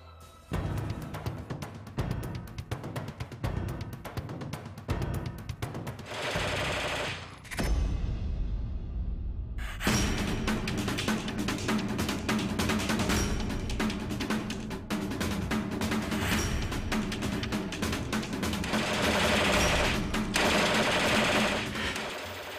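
Rapid automatic gunfire from special commando guns made of light steel, long rattling bursts with a brief pause, then sustained dense firing, loud and close.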